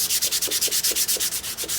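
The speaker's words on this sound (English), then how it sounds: "Sanding it." A ShopSmith sander works over a glued wooden bandsaw box, a close, loud rhythmic rasping with quick regular back-and-forth strokes, about eight passes per second, and no voices.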